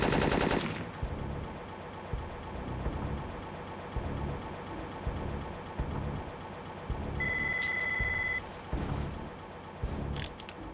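Gunfire in the video game Syphon Filter rattles in continuous bursts of rapid shots, with a brief electronic beeping tone partway through, moderately loud and without talk.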